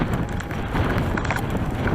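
Strong wind buffets the microphone outdoors on a muddy ride, a dense, steady roar of rushing noise with no pauses.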